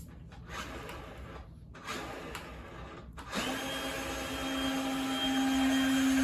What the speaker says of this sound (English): we're gonna have to spin it forward and then hit the throttle at the same time to see if it's working